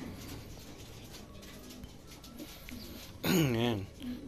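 Racing pigeons kept in a loft in San Quintin, Pangasinan, give a short, loud burst of cooing near the end, following soft background noise and faint talk.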